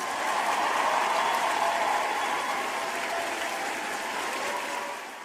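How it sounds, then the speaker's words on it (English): Sustained applause from a crowd fills the space, a dense wash of clapping that holds steady and then begins to fade at the end. "Round of applause for y'all in the building."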